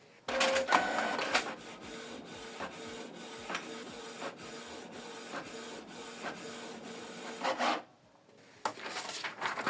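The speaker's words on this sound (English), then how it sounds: "This is the document we printed out. Printing is completed" A Canon Pixma TS3751i inkjet printer prints a document, with rhythmic mechanical clicks, whirring feed motors and print-head passes nearby, then a brief pause before the motor starts again.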